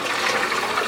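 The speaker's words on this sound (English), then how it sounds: "Now we're gonna soak it in some clean water" Clean water runs steadily and forcefully into a container to soak beef tripe, a close, continuous rushing splash with no voices.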